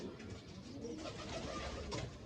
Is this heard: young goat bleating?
no